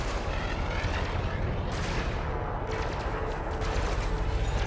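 Enemy ships' weapons striking the player's ship in the space combat game Elite: Dangerous: a continuous loud roar of rapid impacts and blasts that swells in bursts, with no speech.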